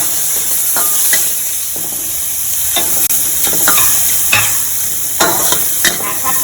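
Vegetarian Thai basil stir-fry ingredients, hard vegetables with a little water, sizzle in a hot pan, loud and close with hissing steam and repeated sharp scrapes and knocks of a spatula, no talk.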